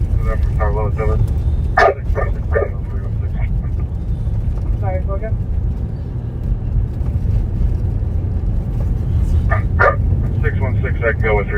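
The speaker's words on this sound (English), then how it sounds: "hear the canines barking in the back of an officer's transmission" Police dogs bark in short bursts through a crackly police radio transmission, clustered at the start and end, over constant static and occasional voices.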